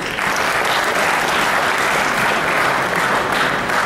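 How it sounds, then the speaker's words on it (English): Steady, dense applause from a large audience, clapping continuously at an even level throughout. "a louder round of applause for Shri Alok Ranjan"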